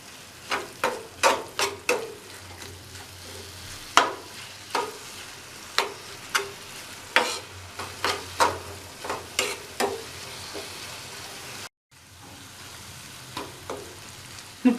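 Egg mixture stirred and fried in a pan for kothu parotta, with repeated sharp spatula scrapes and clanks in an uneven rhythm over a steady close sizzle, one brief gap near the end.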